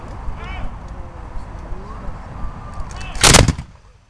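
Black powder musket volley from the Fort York Guard at a Simcoe Day reenactment event: a loud, brief burst of near-simultaneous shots near the end, after a stretch of outdoor crowd murmur and faint voices.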